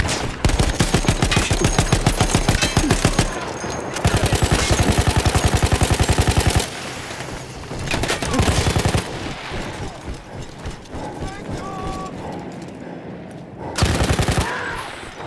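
A mounted machine gun in Battlefield 1 fires long, loud rapid bursts, with sustained rattling volleys, short pauses, quieter distant gunfire between them and a final burst near the end.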